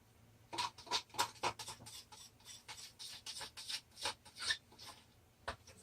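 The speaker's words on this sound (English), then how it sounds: "we're going to scrape that out so we can" Acrylic paint being scraped out of a cup, a run of close, soft rasping scrapes in quick uneven strokes, with no talking.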